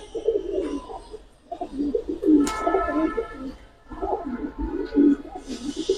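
Giribaz and coloured pigeons cooing in soft, repeated low bursts, several birds close by, with brief pauses between phrases and a faint chirp and background noise.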